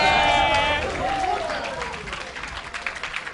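Tournament crowd at a Super Street Fighter IV NorCal vs. SoCal 5-on-5 event cheering and clapping for NorCal, a loud swell of voices fading gradually, with a shouting voice over the noise at the start.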